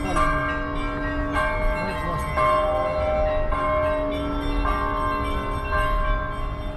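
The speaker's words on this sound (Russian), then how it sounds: "Колокольня это." Church bells ring from a bell tower in Sochi, a series of clear metallic strikes with long ringing overtones, repeating at an uneven pace over a low background hum.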